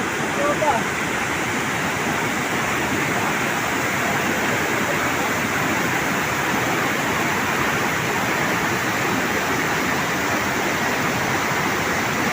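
A river rushes through a deep ravine below Wawa Dam in Montalban, Rizal, a loud, continuous roar of water heard from above without a break.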